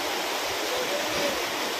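Water rushes steadily through the opened channel gates of Ana Sagar lake into a drain, a constant broadband roar without breaks.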